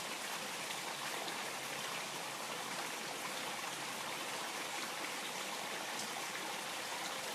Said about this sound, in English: I love that I have the koi pond going here, so you all got the water element in your ears